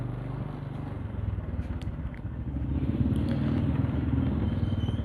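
A Hero Karisma X 125D motorcycle engine climbs uphill on a residential route, its steady low rumble building as the throttle opens, loud and close with some clatter and no talk.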